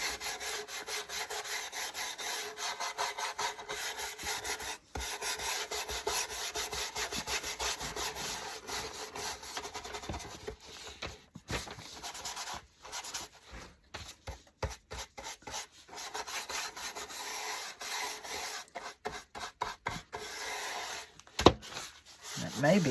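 Brown wax being rubbed onto the edges of wooden furniture with a cloth, close scratchy rubbing strokes in uneven bursts, with a voice talking quietly at times.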